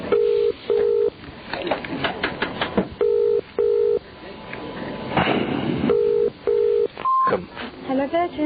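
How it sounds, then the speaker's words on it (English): A telephone line rings out in repeated paired ring tones at regular intervals, with a voice talking over the gaps between rings and muffled line noise around them. "It was ringing so long now I forgot what I was doing."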